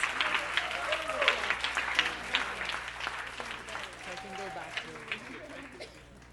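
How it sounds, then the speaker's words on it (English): A round of applause fills a Green New Deal town hall, with many hands clapping at once and crowd noise while voices talk over it, fading slightly toward the end. "let's give him a huge round of applause"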